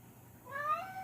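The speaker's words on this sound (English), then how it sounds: "And then you have to excuse the cat." A cat gives a single short, rising meow, faint and a little distant, with no talk around it.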